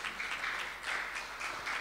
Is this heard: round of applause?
yes